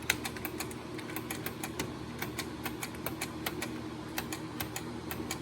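Buttons on a dirty Asteroids cocktail arcade cabinet are pressed repeatedly, a quick run of light plastic clicks at an irregular pace, close up and fairly quiet.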